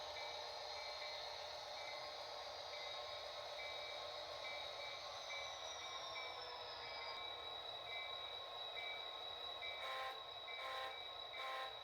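A freight train in the Garrett rail yard rumbles steadily at a distance, with a long sustained horn-like tone and some squealing, ending in a few sharp rhythmic bursts.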